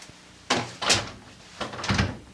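A locked door is tried, giving a few loud thuds and rattles in two bursts, close by with no speech.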